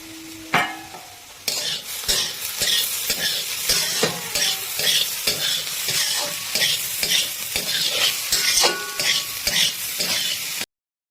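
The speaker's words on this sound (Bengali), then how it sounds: "আর এই সময়তে ভেজে রাখা ফুলকপিটা এর মধ্যে মিশিয়ে দিচ্ছি" Onions and pre-fried cauliflower stir-fried together in a pan for chowmein, with loud continuous sizzling and repeated scraping stirs close by, no talk.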